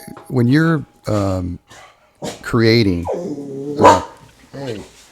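A dog barks and whines indoors in several short, fairly loud bursts, mixed in with a person talking nearby.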